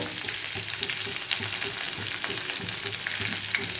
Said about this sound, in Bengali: আলুটার মধ্যে অল্প করে একটু নুন দিয়ে দিই নুন হলুদটা ভালো করে মিশিয়ে নেড়ে দিতে হবে